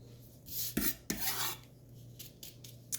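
A knife chopping fresh parsley on a board makes a quick series of crisp, scraping cuts in short bursts, with quiet pauses between strokes.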